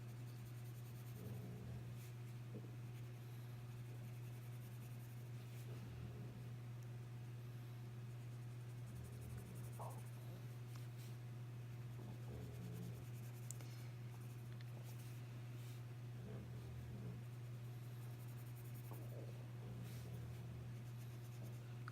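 Quiet, repeated scratchy strokes of a coloured pencil shading on paper, soft and close, over a steady low electrical hum.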